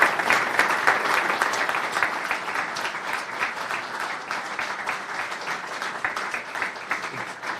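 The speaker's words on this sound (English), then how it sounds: "Could you please give our three guests a big round of applause this evening?" A crowd at a football club fans' forum applauds three guests; dense, sustained clapping fills the room at full strength from the start, easing slightly toward the end, with no voices over it.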